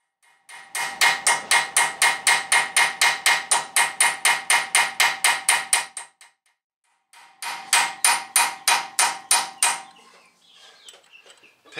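A chisel hammered against a stuck screw while working on the rear brakes of a 2005 Land Rover LR3, heard as loud, rapid metallic hammer blows in a long even burst, a pause, then a shorter burst, with no talking.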